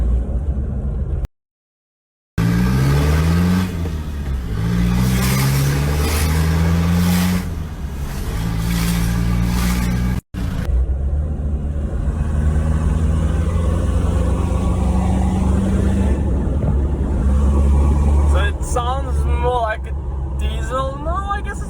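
A loud, close 1997 Mitsubishi Pajero 2.8 turbo diesel engine with a straight pipe exhaust revs up and drops repeatedly as it shifts through gears, with a deep throaty exhaust rumble throughout.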